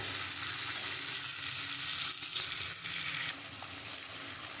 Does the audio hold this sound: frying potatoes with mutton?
yes